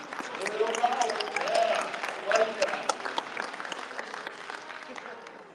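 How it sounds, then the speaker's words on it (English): An audience at a convention anime panel claps in a sustained burst of applause that swells and fades, with talk and voices mixed in over it. "It's my kind of crowd that we all clapped at that"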